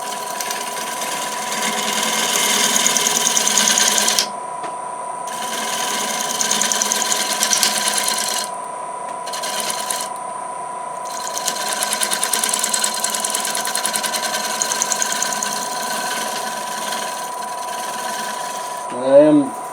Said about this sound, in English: I'm just going to use a shearing cut here. A very, very light cut.